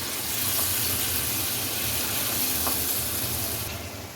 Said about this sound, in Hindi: एक फ्राई पैन लें, उसमें थोड़ा सा ऑयल ऐड करें और ये चिकन जो हमने मैरिनेट किया था वो इस फ्राई पैन में डाल दें